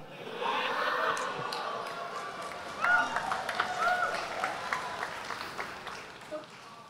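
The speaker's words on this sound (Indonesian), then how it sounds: "saya satu kosong dapat tepuk tangan Pak barusan" An audience claps at a public question-and-answer session with a politician, with scattered applause rising and fading beneath someone speaking and some laughter.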